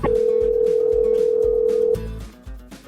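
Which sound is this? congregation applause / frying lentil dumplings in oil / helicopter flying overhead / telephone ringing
telephone ringing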